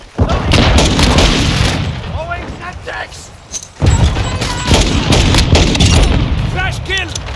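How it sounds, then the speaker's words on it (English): Loud flashbang blasts and heavy gunfire from Call of Duty Modern Warfare 2 multiplayer, a Hardpoint match on the Shipment map, with sharp repeated bangs throughout and a big burst near the middle, under game voice callouts. "flash grenade!"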